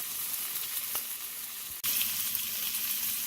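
Pork chops sizzling in a cast iron pan, a constant close hiss of frying fat with a brief sharp knock partway through, no voices.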